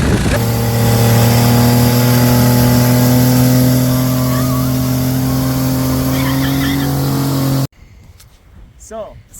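A Suzuki DR 650 motorcycle engine drones steadily while riding, a loud sustained hum holding pitch for several seconds before cutting off abruptly into quieter background noise.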